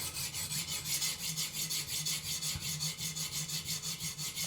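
A Buck 560 titanium folding knife being sharpened on a TSPROF guided sharpener, a steady rhythmic rasping as the stone strokes back and forth across the blade, even and close, with no talk.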